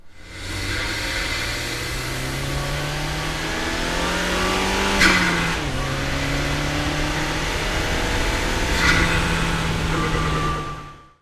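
Ford Focus RS engine captured close up from inside the engine bay, loud and continuous, rising steadily through the revs with two brief shifts or blips before tailing off at the end, no voices.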